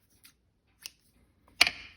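Scissors snip paper for handmade Christmas tags, three crisp cuts spaced unevenly, the last one loudest and closest, in an otherwise quiet room.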